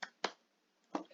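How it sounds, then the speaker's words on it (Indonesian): Participants in an online webinar clap, heard as three sharp, isolated hand claps spaced unevenly within about a second, close and crisp with silence between them. "Tepuk tangan semuanya."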